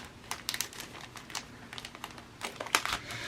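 Clear plastic cellophane bag crinkling and rustling up close as a handmade card is slid inside, in quick irregular bursts of crackle.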